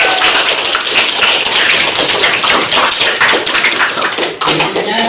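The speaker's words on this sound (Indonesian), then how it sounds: "Ya, luar biasa. Tepuk tangan" A class of students claps hands together, a loud, dense, continuous patter of many close overlapping claps with no pause.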